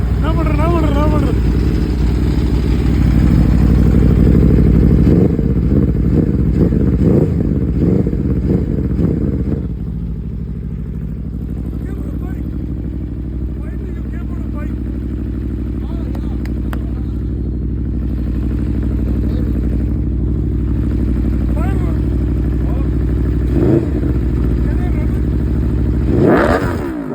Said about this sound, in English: What a bike, man.